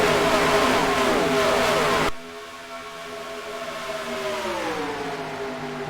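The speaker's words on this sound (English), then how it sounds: "you can't hear me because they're so noisy, these cars" Race car engines in NASCAR Racing 2003 roar loudly as a pack passes, then drop to a steadier whining drone with engine tones sliding in pitch.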